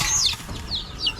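Chickens and roosters cluck and squawk close by in a farm coop, several short rising calls overlapping within about a second, with no talking.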